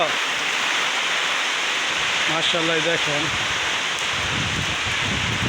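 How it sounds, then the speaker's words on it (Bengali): Rain falls steadily on a farm, making a constant broad hiss. A person speaks briefly over it partway through. "এবারে বৃষ্টি।"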